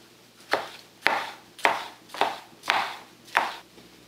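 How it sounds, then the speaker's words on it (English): A knife chops red peppers into long finger-sized strips, six crisp, evenly spaced cuts on a board, close and alone. "you're going to cut them into long finger-sized strips about the same diameter as your green beans"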